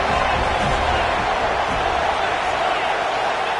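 A stadium crowd at a college football game roars in a dense, continuous wall of noise that stays loud and even throughout, with a commentator's voice running over it.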